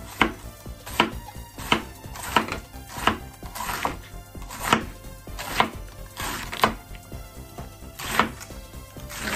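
Cabbage is chopped with a knife on a board in a home kitchen, about a dozen distinct crisp cuts in an uneven rhythm, each a sharp close thunk with a brief crunch, no talk over it.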